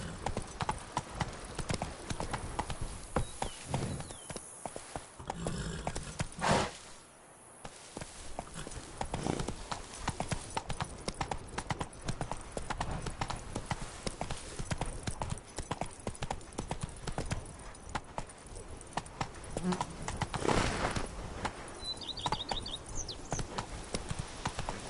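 In The Witcher 3 video game, the horse Roach's hooves clip-clop in a steady rhythmic gait. The footfalls continue throughout at moderate volume with a short pause midway, and a voice speaks briefly.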